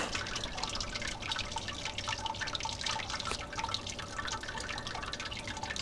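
Wort trickles slowly through a stuck sparge in a Grainfather brewing system, a soft continuous watery patter and drip that stays steady throughout, close and quiet with no voices.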